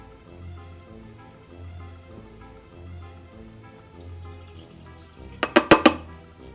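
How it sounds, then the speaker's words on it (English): Dry cupcake ingredients are whisked in a bowl with a soft, steady, rhythmic scraping and stirring, ending in a few sharp clinks of the whisk against the bowl. "let's whisk this up"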